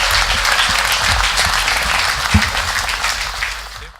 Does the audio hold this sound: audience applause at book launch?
yes